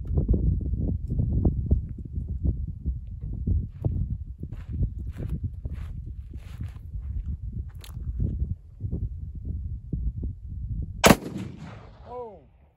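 Colt Walker black-powder revolver firing, ending in a chain fire: a dense run of sharp cracks and clattering handling noise, then one very loud, bright blast near the end followed by a ringing decay, with no talk.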